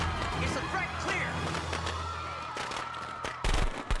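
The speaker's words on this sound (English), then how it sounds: "Firecrackers. False alarm." Firecrackers pop in a rapid series in the animated Lego Ninjago Season 8 episode The Mask of Deception, with crackling bursts and a louder cluster near the end, mixed with music and voices talking.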